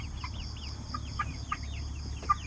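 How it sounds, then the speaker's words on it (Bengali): Farm chickens cluck in short repeated bursts, with bird chirps and a steady low hum of livestock background; geese and ducks share the yard, no voices present. "হাঁস মুরগি পালি রাজহাঁস আছে মুরগি আছে"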